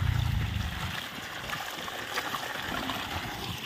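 Irrigation water flows steadily into a channel in an onion field, giving a continuous close rushing and trickling wash with no voices.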